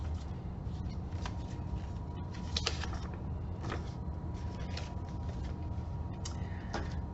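A paper travel-sized RPG booklet being folded by hand, with soft crinkles and a few sharp papery creases and taps spread over several seconds, close by and fairly quiet.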